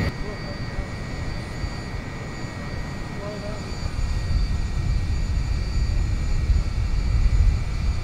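A geothermal power plant turbine generator spinning at 1,800 RPM, heard as a loud, steady low roar with faint steady tonal hums and a rumble that swells in the second half, while a person talks over it.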